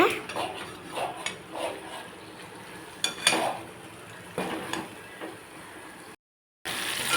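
Spiced dried fish gravy is mixed in a pan, a close, steady soft sizzle broken by repeated scraping and clinking of a spoon against the pan, with a short abrupt silence near the end.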